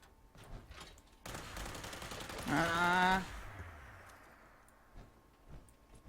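Gunfire in a Fallout 76 PvP encounter: a loud, rapid burst of shots that swells and cuts off, with fainter scattered shots and game noise before and after.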